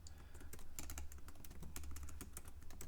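Rapid keystrokes on a computer keyboard while entering a terminal command to create a Cypress end-to-end spec file, dense irregular clicks close up and steady, with no talking.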